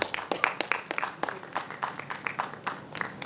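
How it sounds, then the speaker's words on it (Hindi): Applause for an awardee at the Ten Inspiring Young Mind Awards ceremony, a sparse, moderately quiet scattering of individual claps in an irregular rhythm over a few seconds, with no voices. "एक बार जोरदार तालियां हो जाए उनके लिए।"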